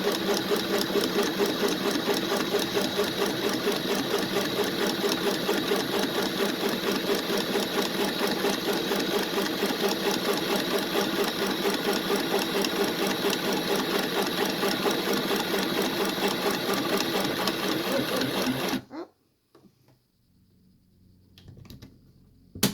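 A sewing machine stitches a child's fabric face mask, running in one steady, close, rapid mechanical whir for about nineteen seconds before stopping abruptly into near silence.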